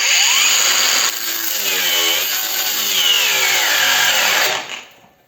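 A DRIVAK AG001 cordless angle grinder whines at high speed while pressed into a workpiece under load, steady and loud, then cuts out and spins down as its overload protection trips.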